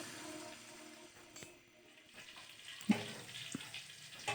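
Dry fruits roasting in ghee in a pan, a faint, soft sizzle with occasional light stirring knocks and scrapes.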